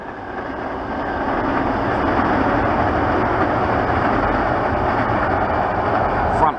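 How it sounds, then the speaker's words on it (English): Passenger train MP23, the Armadale Moor Explorer, passing at Meadowbank Rail Bridge, a steady loud rolling rumble that swells slightly and holds for several seconds. "And here comes MP23"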